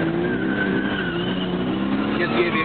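A car drifting sideways at full lock at a 2009 drifting event in Weeze, the engine droning steadily with a rising tire squeal, loud and continuous close by throughout.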